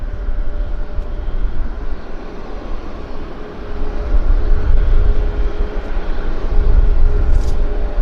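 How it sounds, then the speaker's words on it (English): A Delta Airlines airliner, flight 483 in from Minneapolis, taxis at Vancouver airport toward the U.S. gates. A steady, broad jet engine rumble with a low drone builds slightly louder in the second half. "It's the Delta Airlines 483. Taxiing to the U.S. gates."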